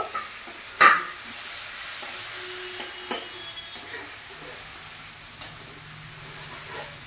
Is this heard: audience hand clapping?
no